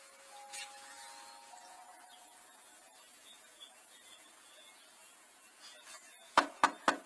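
Three sharp knocks on a house door land close together near the end, after a stretch of quiet room tone with a faint hum.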